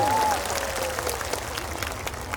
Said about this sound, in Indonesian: Tepuk tangan dok